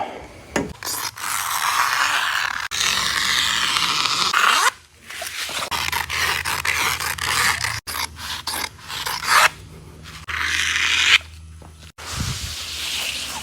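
Scissors cutting out a traced fabric pattern for a pontoon boat's bimini flap, heard as close, repeated rasping snips and slides of material in bursts, with short pauses and handling noises between them; no talk.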